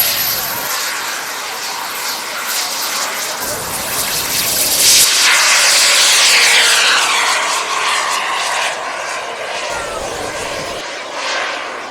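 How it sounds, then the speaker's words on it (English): A model RC jet turbine engine spools up at a hot air balloon festival outdoors, a loud rising whine and roar that swells and holds over several seconds. "Turbine power."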